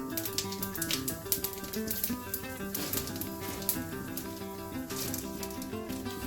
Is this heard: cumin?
yes